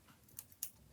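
Scissors make two quick, faint snips while trimming a fabric seam allowance short during cardigan sewing, each cut a soft crisp click in an otherwise quiet room.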